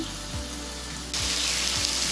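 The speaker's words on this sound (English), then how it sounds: "put your chicken in the pan in a nice single layer. You can hear it sizzling" Steady broadband hiss of chicken frying in a hot pan, loud and close, with a brief jump in intensity partway through.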